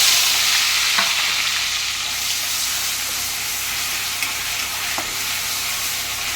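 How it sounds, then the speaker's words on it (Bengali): Onion paste fries loudly in hot oil with whole garam masala for a prawn malai curry, giving a close, steady, hissing sizzle with a couple of faint stirring clicks. "পেঁয়াজটা ভাজা হতে থাকুক।"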